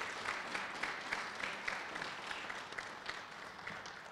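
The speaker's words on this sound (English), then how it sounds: "Let's give them all a round of applause" Fairly faint audience applause at a university leadership awards ceremony, steady scattered clapping heard from a distance with no speech over it.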